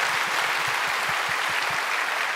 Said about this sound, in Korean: 우리 인사하실 때 박수로 축복해 주시기 바랍니다